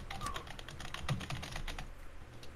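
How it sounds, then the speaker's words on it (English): Rapid computer keyboard clicking during an online Goose Goose Duck game, a steady close clatter of keystrokes running throughout with no talk over it. "Stop clicky clacking."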